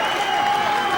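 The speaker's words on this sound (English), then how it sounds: "Looking for a big finish as the crowd cheer him on here at the Bellahouston." A boxing crowd at Bellahouston cheers and applauds in a brief, dense wash of noise, with a faint voice over it.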